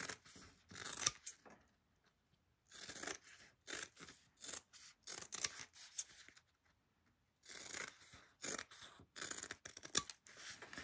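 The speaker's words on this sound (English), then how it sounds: "once you got your sewn all the way around, you're going to trim your corners" Scissors trimming the corners and sides of sewn fabric for a bag, a series of close, crisp snips in irregular clusters separated by short quiet pauses.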